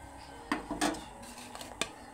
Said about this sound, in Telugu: ఇందులో మనం వేసుకుందాం గవ్వలు. వేసుకొని ఇలా కలుపుకోవాలి.